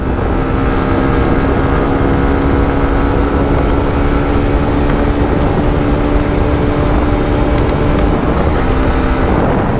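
A 2024 Hero Xtreme 125R motorcycle accelerating from standstill toward 100, engine and wind roaring loud and steady throughout with a rising tonal whine, and no speech.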